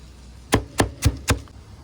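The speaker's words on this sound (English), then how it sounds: "Let's go ahead and chop up this bacon with a nice cleaver" A cleaver chops through cooked bacon on a board in four sharp, evenly spaced thuds, close and distinct, with no talking.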